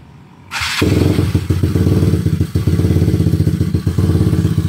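A Yamaha Mio Sporty scooter built up to 261cc fires up after a brief quiet start and holds a loud, close, raspy rev with rapid throbbing pulses and slight dips for several seconds.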